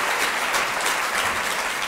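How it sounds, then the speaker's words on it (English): An audience at the Appointment with Destiny UK 2017 interactive session claps steadily for itself, a dense, sustained round of applause from a large crowd throughout. "Could you clap for yourself?"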